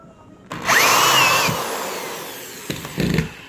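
A power drill drives a screw into 2x4 lumber and plywood in one close, whining burst of about a second, its pitch rising. Short, softer bursts and knocks follow.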